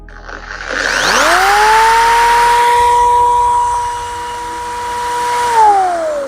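A small electric motor spun up to 3000 RPM, a loud whine rising quickly to a steady high pitch, holding for several seconds, then starting to wind down at the end.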